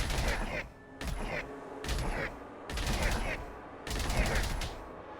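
Gunfire from several weapons unloading whole magazines in the video game Subterrain comes in four loud, dense bursts of rapid shots, separated by short gaps, with a steady mechanical background underneath.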